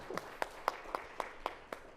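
Audience applause for a museum's support at a symposium keynote lecture, heard as a sparse, moderately distant run of regular individual claps about every quarter second.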